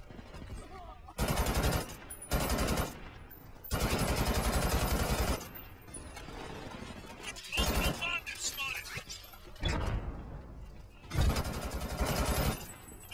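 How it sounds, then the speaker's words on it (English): Gunfire in the shooter game Brink, repeated loud bursts of rapid automatic fire broken by short gaps, with busy game noise in between. "I keep getting shot at"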